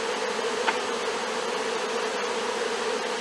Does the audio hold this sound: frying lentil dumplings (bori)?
no